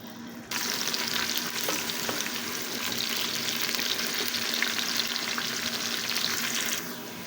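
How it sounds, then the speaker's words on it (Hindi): Sliced onions drop into hot oil in a pressure cooker and fry with a loud, steady sizzle close by. The sizzle starts abruptly and runs continuously for several seconds before easing slightly at the end. "ऑयल गर्म हो गया है, अब मैं इसमें प्याज डालूँगी।"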